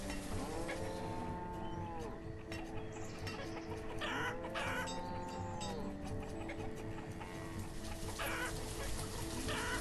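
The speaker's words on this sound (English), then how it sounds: "And these chickens are loud." Flock of chickens in the city-building game Banished, clucking busily and repeatedly in a dense farmyard ambience, with lowing cattle-like calls mixed in and a steady background bed, no speech.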